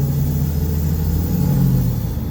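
A turbo diesel Toyota Innova revs up under load on a test drive, a deep, steady rumble with rising growl, heard close from inside the vehicle.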